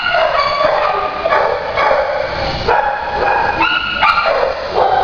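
A dog at a shelter gives a run of repeated high, yipping barks, roughly half a dozen sharp bursts spaced irregularly over a few seconds, close and loud, with no talking.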